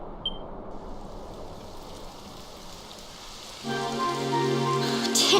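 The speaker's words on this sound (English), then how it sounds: "It would have to go and start raining, wouldn't it?" Steady rain falls in Dragon Quest XI, a dense even patter that swells louder partway through as a layer of tonal game music joins beneath the downpour.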